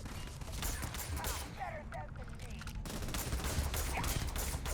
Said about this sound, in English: I think my new laser gun's pretty good.